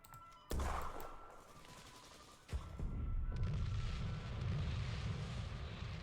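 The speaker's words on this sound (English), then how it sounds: "Ooh, double explosion." Two explosions in the card game KARDS: a sudden booming blast, then a second heavier detonation that rolls into a sustained rumbling roar with crackling, loud and close.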